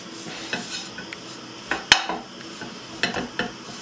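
Mashed potatoes being mixed with melted butter in a pan for a fish pie, with soft wet stirring, faint sizzle and a few sharp clinks of a utensil against the pan, close and quiet, with no talking.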